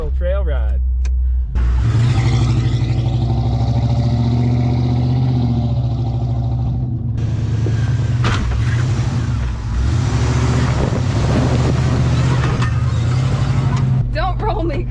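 A Ford Bronco rumbles loud and close along an off-road trail, its engine droning steadily throughout with rises in revs, while people talk inside the cab over the noise.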